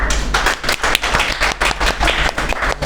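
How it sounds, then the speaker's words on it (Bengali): Students in a university English lecture give a burst of applause for classmates who tried an exercise, with close, loud, irregular claps continuing throughout. "যারা ট্রাই করেছেন তাদের জন্য অনেক বড় একটা হাততালি হবে"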